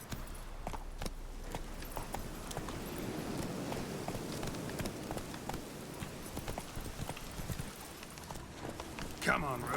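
Horse hooves from The Witcher 3 clip-clop in a steady, continuous rhythm, close and moderately loud, with game ambience and a voice talking over them throughout.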